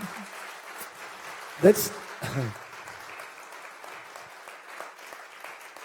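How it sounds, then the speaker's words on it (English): Audience applause breaks out at the close of a design talk, a short burst of clapping rising over a chatty room, with people speaking before and after. "That's actually applauding for yourself"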